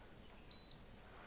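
A home sparkling water maker gives a single short, clean electronic beep at low volume, with a quiet background around it.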